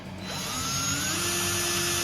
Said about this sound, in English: When you drill metal, you always want to center punch it first.